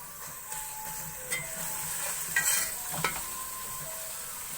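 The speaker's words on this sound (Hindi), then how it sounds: "अब हल्की आंच पे लहसुन को भी थोड़ी देर फ्राई कर लेंगे।" Garlic paste frying with onions in a pan over low heat, a steady soft sizzle with occasional scraping stirs of a utensil close by.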